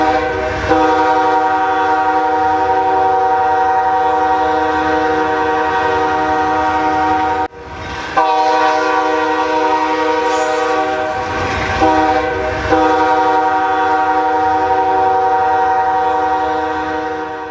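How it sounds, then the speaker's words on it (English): A train rolls past with its horn sounding loud and sustained, the blast broken by two short gaps, over rumbling rail noise throughout. "Trains and railroads."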